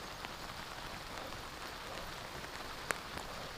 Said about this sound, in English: Oh, the rain's getting harder, guys.